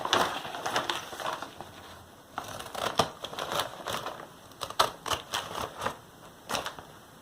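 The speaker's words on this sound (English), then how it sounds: "So you'll just take your pinking shears and cut along your seam on each side." Pinking shears chop along a fabric seam of a feed-bag tote in quick, rhythmic snips, close up and steady over a faint background with no voices.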